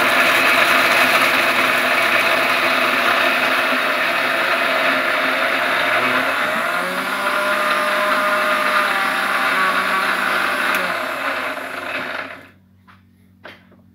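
Kitchen mixer grinder whirring steadily as it grinds food fine, a loud continuous motor drone with rattling that shifts pitch midway, then cuts off near the end leaving a few faint clicks.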